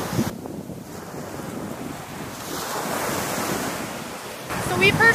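Ocean surf washes steadily along a beach at Barra de São Miguel in Brazil, where offshore rocks shelter a calm swimming area, heard as continuous broadband rushing with wind buffeting the microphone and swelling louder at the end.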